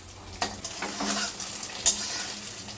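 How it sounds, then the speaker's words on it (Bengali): Chhana koftas fry in hot oil with a continuous close sizzle, while a utensil stirs and scrapes the pan with a few soft clinks and no voices. "এইভাবে আমি সবগুলো ভেজে নিচ্ছি"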